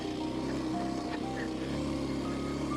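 A Kawasaki KLX230S motorcycle engine running steadily in second gear on a bumpy road, a continuous droning hum with wind noise, heard from the rider's position without pauses or talk.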